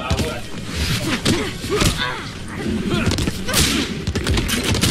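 Gunfire from a Mortal Kombat fighting game match at a tournament, a rapid run of loud shots and thuds packed closely together, with energetic commentary over the top.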